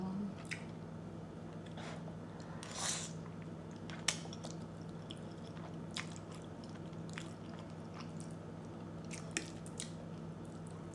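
Someone eats creamy shrimp linguine alfredo pasta up close, making soft wet squishing and chewing sounds with occasional sharper smacks over a steady low background hum.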